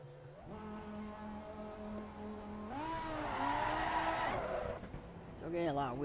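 A race car's tires squeal through a long spell of wheel spin, a sustained high whine over the drone of the engine, with the pitch rising before it drops off and the engine note returns.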